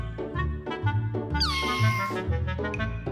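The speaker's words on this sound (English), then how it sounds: "let's look at this meow. I think the meow is just adorable." A pink kitten doll in a stop motion animation gives a single drawn-out, rising-then-falling meow over soft background music, close and clear.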